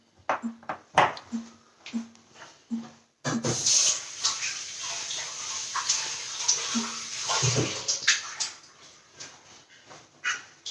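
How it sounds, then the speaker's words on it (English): Hands are washed under running tap water, a steady close splashing rush lasting about five seconds. Short dog-like yelps and whimpers come before and after it, and no words are spoken. "Just gonna go wash my hand and come again."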